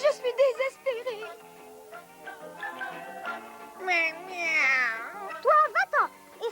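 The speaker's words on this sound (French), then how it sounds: "C'est Arthur, c'est ce vilain chat qui ne me laisse jamais tranquille." A cartoon cat meows several times in drawn-out, wavering cries, some rising into a long yowl, mixed with animated voices talking; the calls are close and clear.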